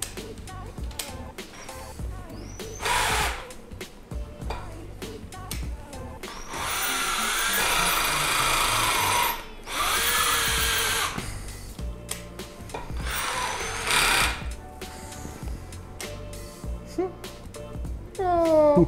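A cordless rotary hammer runs in loud bursts that start and stop, grinding into material, with pauses and brief voices between the runs as it stalls.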